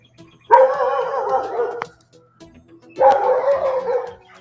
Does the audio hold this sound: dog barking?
yes